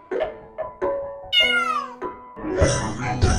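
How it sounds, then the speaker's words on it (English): Cartoon cat meows several times in a Hickory Dickory Dock nursery rhyme, clear and close, with a rising-falling musical cry in the middle amid the song's backing. "A cat."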